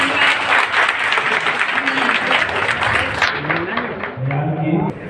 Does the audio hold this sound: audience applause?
yes